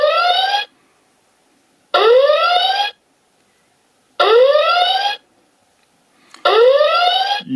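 A homemade Star Trek door panel sounds its red alert alarm: four loud, identical rising electronic whoops, each lasting under a second and separated by roughly a second and a half of silence, with no voices.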